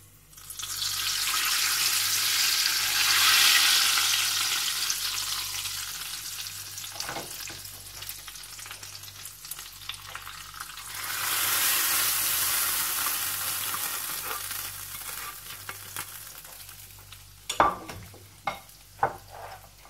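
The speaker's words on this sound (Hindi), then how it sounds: "इसके अंदर मैं तड़का लगा दूंगी इसका।" Tempering spices hit hot oil for black masoor dal with a loud burst of sizzling that swells, fades, then surges again, ending with a few sharp clinks of a utensil.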